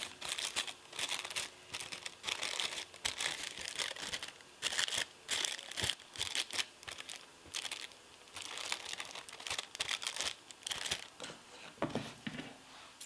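Crisp tissue paper crinkling and rustling, close and continuous, with irregular bursts of crackle as thin sheets are pulled and smoothed over a model.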